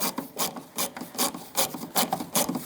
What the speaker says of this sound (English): The 4 mounting screws are Torx bit head, and it's called a T25. We'll just take all 4 of these out.